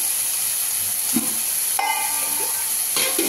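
Ginger garlic paste sizzling in a hot frying pan while mushrooms cook, a steady bright hiss with faint clinks and stirring sounds.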